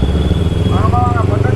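Modified Kawasaki Ninja 300 with an Akrapovic exhaust, a loud close throaty idle with a quick blip of revs in the middle, chattering pulses throughout.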